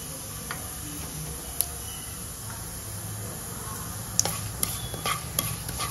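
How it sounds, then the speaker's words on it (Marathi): Cumin and mustard seeds crackle in about two tablespoons of hot oil for tempering, giving scattered sharp pops and ticks, busier toward the end, over a low steady sizzle. "जिरी मोहरी छान तडतडली ना"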